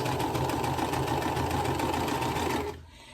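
A sewing machine stitches quilt block pieces for a bee-themed block at night, running in a steady continuous whir for nearly three seconds before stopping abruptly, close and fairly loud with no talk.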